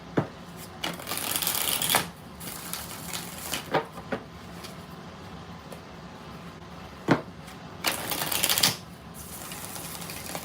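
Tarot cards being shuffled in several bursts, riffling and slapping together up close, with short pauses between rounds.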